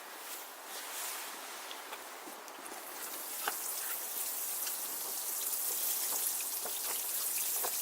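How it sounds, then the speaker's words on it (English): Water pours steadily from a can or hose onto the soil of newly sown pepper, rocket and radish seeds inside a polytunnel, a continuous close spattering hiss with small droplet patters, growing slightly louder toward the end. "And now I'm going to water them in."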